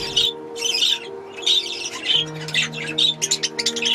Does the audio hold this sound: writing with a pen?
no